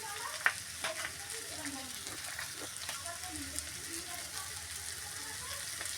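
An egg roll fries in a pan, producing a soft, even sizzle with faint crackles, a quiet steady hiss that carries on for the whole stretch with no voices.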